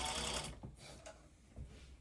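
A sewing machine backstitches a silk scrunchie in a short burst of fast mechanical stitching, then a few quieter clicks and taps close by.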